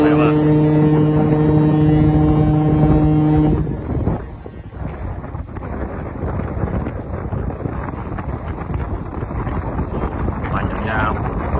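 The Celebrity Millennium cruise ship sounds its deep, loud horn with a steady multi-tone blast, then it cuts off and gives way to wind rumble and engine noise from a nearby vessel.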